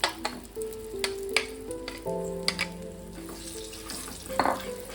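Mung dal lentil cakes (dhoka) frying in a pan with a pinch of asafoetida, giving a steady close sizzle with occasional stirring scrapes over faint tonal background sounds.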